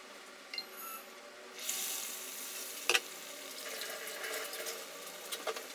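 Stuffed banana fritters (pazham pori) frying in oil over a medium flame, a steady soft sizzle with brief clinks and stirring sounds near the start and middle, no talking.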